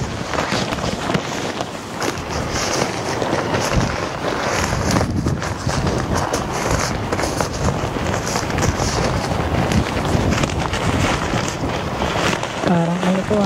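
Wind gusting across a lakeside campsite at Lake Whitney State Park, a loud continuous buffeting roar on the microphone with rustling and handling noise throughout.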